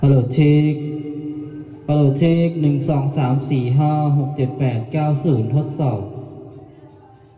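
A voice counts and tests a microphone in Thai through a Soundbest MGP6X mixer's echo effect, her speech carrying a ringing echo that trails after each phrase.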